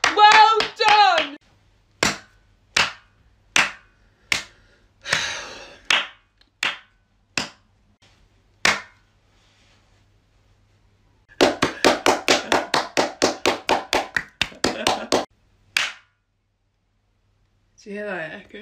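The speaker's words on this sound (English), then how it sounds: "Different types of people clapping." People clap their hands in a comedy skit, first with single spaced claps, then a quick even burst of loud claps close by, with brief talk before and after.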